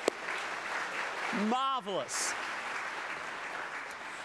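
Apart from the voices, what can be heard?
audience applause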